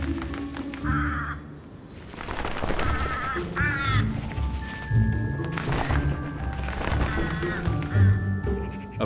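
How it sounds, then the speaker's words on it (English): Crows and magpies squabble over a carcass, with repeated harsh caws and chattering calls overlapping at close range, some sharp clipped notes and scuffling among them. "A carcass is an exciting find for crows and magpies, and all are willing to scrap for their share."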